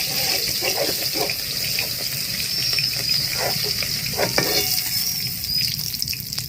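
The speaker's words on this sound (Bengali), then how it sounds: "সব মাছ ভেজে আপনাদের দেখাচ্ছি।" Fish fries in hot oil with a continuous dense sizzle that stays close and steady throughout, with faint knocks and scrapes from the pan.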